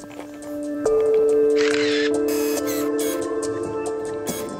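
A handheld camera's shutter fires a few crisp clicks over a steady outdoor background with a persistent tonal hum, close and fairly clear.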